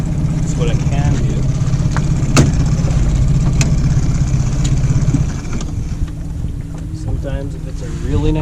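A fishing boat's motor hums steadily at low trolling speed during kokanee salmon fishing, with wind buffeting the microphone and voices talking over it.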